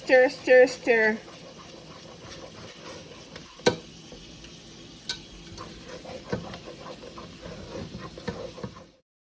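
Thick fufu being stirred by hand in a pot on a stove, with a steady run of soft scraping and slapping strokes under occasional low background noise after a brief sung or spoken note at the start.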